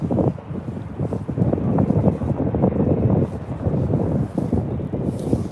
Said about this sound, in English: It is windy, guys, bear with me.